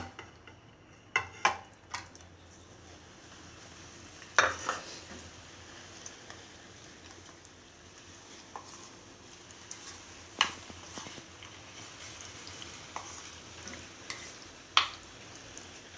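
Paneer is added to a pan for paneer dum biryani and stirred. A spoon scrapes and clicks against the pan at irregular intervals over a soft, steady sizzle, close by with no talking.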